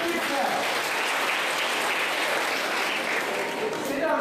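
Students in a college classroom give a classmate a big round of applause: loud, continuous, dense clapping from many hands that stays steady throughout with no gaps.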